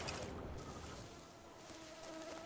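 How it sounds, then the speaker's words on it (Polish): Mosquitoes buzz steadily in the Witcher 3: Blood and Wine expansion, played on PC, a thin close whine held over a dense, constant ambient bed with no talking. "Ach, te komary."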